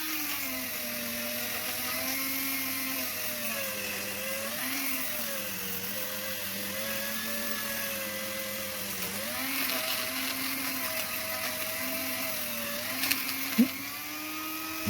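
A high-speed rotary tool grinds casting marks from the ports of an ST170 cylinder head, a close, steady whine whose pitch sags and recovers as the bit loads against the metal, with a couple of sharp knocks near the end.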